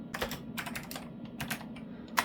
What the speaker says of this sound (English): I also need to check this keyboard because when I press space, it does 2 spaces sometimes.